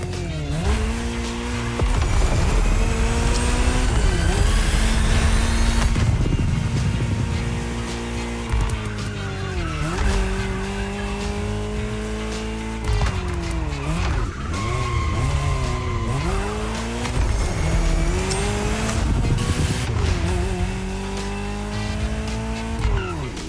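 A Ferrari 308 GTS drives in The Crew Motorfest, its engine revving up and down through repeated gear changes while the tires squeal through hard cornering, loud and close throughout.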